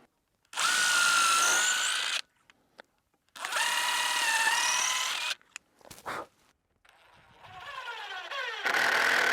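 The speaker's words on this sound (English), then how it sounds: "we're gonna drill it out with our bit" Power drill boring through wood with a bit while installing a shed breaker panel and outlets, in three loud bursts separated by short pauses and clicks, the last whining as it winds up.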